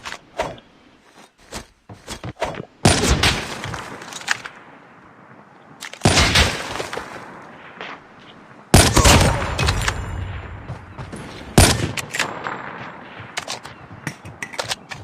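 Bursts of rapid gunfire in the video game Call of Duty Mobile crackle in several loud volleys separated by quieter stretches with scattered single shots.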